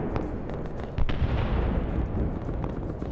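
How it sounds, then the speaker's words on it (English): Player-called artillery fire in Arma SOG Prairie Fire during a defense of Khe Sanh, a dense, continuous roll of booming impacts and crackling blasts with no pause, loud and sustained throughout. "the player artillery is also working out pretty well"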